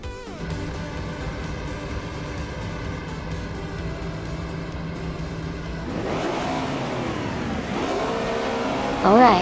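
Several racing car engines roar together at a race start on the Dijon-Prenois short track in a racing game, a steady layered drone that swells into rising revs and gear-change sweeps, louder near the end.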